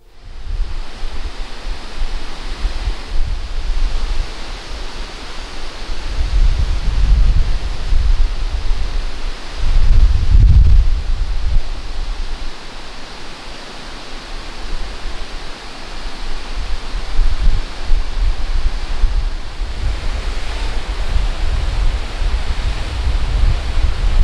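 Roaring waterfalls at Bridal Falls and Horsetail Falls near Valdez, Alaska, give a constant broad rush of falling water that swells and eases slightly, close and loud with wind buffeting and no voices.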